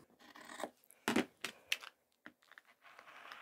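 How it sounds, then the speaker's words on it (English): Scissors snip through fabric while a cutlery roll-up pouch is being sewn, giving a few quiet, separate crisp cuts with short pauses between them. "You can scissor cut that."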